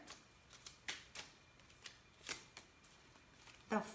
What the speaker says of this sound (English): I've been shuffling far too long for my poor people.